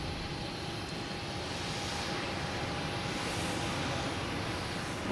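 An American Airlines Boeing 737 MAX 8 arriving from Chicago at Boston Logan gives a continuous, fairly faint jet roar with a thin steady whine, heard from a distance without any talk.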